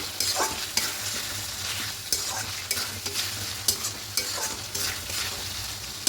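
Chicken and peas stirred with salt in a frying pan, a steady scraping stir over a continuous sizzle, with sharper clinks of the spatula against the pan at irregular intervals.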